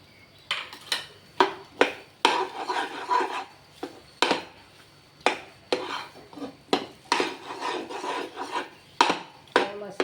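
Fried cashews, raisins and coconut are stirred into a millet laddu mixture in a pan, giving repeated close scraping and rasping strokes in an uneven rhythm with short pauses between them.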